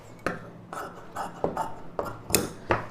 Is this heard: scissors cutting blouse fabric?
yes